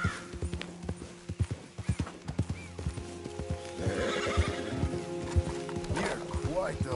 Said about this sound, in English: You're quite the horse.